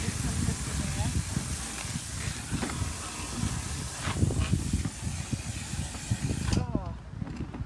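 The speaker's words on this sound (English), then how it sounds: "I got my hose. And I'm going to fill this up" Water from a garden hose hisses and splashes steadily into a Shark vacuum cleaner's canister, a continuous rushing spray that cuts off abruptly near the end, with a voice talking over it.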